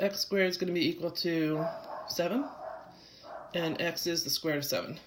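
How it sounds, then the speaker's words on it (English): A dog inside a house barks at other dogs passing by outside. The yips and barks are partly buried beneath someone talking steadily nearby. "No dog can walk by my house without that dog screaming."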